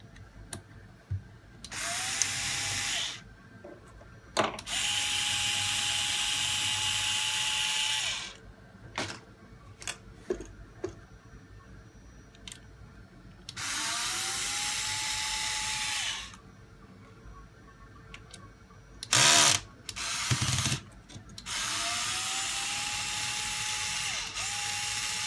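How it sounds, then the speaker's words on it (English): A cordless drill backs screws out of the suspension links on a 1/10 scale Gatekeeper RC 4x4 rock crawler, running in four separate sustained whirring bursts with short clicks, taps and handling noises between them. "we can go ahead and start pulling screws out"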